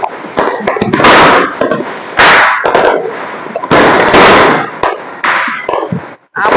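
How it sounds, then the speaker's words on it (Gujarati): Firecrackers burst during Diwali celebrations, a rapid series of loud, sharp cracks and bangs in irregular clusters, some overlapping, with short gaps between volleys. "આપણે પણ ફટાકડા ફોડીએ।"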